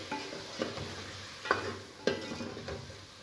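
Malai gosht stirred in a cooking pot with turmeric, a soft sizzle broken by several distinct scraping strokes of a spoon at irregular intervals, fairly quiet and with no talking.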